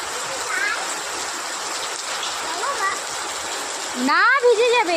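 Hail and heavy rain pelting a tin roof over a shop during a hailstorm, a dense, steady rattling hiss for about four seconds before a voice speaks briefly over it.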